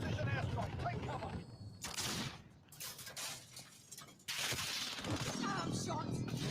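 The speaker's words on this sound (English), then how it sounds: "Enemy precision airstrike. Take cover." Video game enemy precision airstrike with gunfire: loud crackling bursts and shattering impacts dominate, dropping away briefly before another heavy barrage, with voices talking beneath the chaos.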